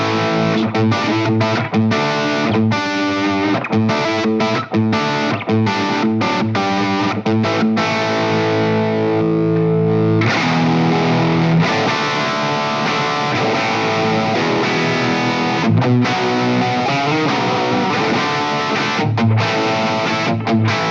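Electric guitar through a Wampler TCD overdrive pedal with the mode switch engaged and mids pushed, played alone as loud, continuous driven chords and riffs with crunchy sustain.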